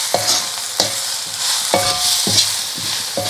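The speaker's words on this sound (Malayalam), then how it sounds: "ഇത് ഇളക്കി കൊടുക്കാം." Spoon scraping and stirring coconut palm shoot thoran with masala powder in a hot pan, a steady sizzle under several distinct scraping strokes, close and alone.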